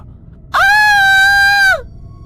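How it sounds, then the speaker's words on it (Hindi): A woman lets out a single loud, sustained scream, steady in pitch for just over a second, in an animated horror story, standing alone against a quiet background. "वो जोर से चिल्लाई"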